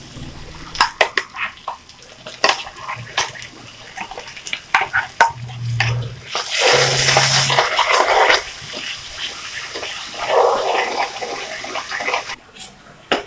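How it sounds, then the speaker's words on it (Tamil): Water swishes around inside a mixer grinder jar to rinse out leftover ground masala paste for a tomato kurma, then splashes as it is poured into the pot, with clinks and scrapes of kitchenware and a loud pouring rush in the middle. "மிக்சியில் இருக்கிறதுலாம் கொஞ்சம் அலம்பி ஊற்றிடுவோம்"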